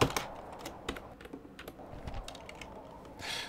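Rapid, uneven clicking of a faulty computer keyboard during PC gameplay, close and fairly quiet, with scattered keystrokes and short bursts.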